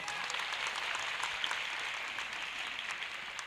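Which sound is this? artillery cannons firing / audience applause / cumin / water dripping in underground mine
audience applause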